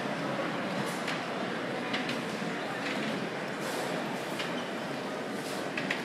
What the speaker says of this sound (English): Torsten, you want a choo-choo?